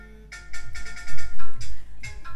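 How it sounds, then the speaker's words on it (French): A mobile phone ringtone chimes in a short run of melodic electronic notes, moderately loud over a low background hum, with no talking. "éteins-moi ce téléphone, s'il te plaît"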